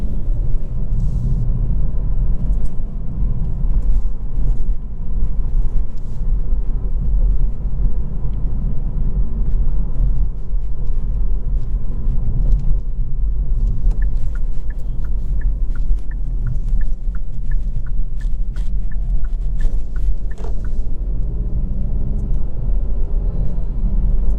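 The 1.6 T-GDI turbocharged engine of a 2022 Kia Proceed GT rumbles with a deep, steady low growl, close and continuous, with faint clicks and small shifts in tone.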